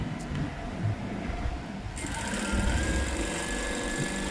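A sewing machine stitches cloth during a tailoring lesson, starting a rapid, even mechanical whir midway that runs steadily and close until the end.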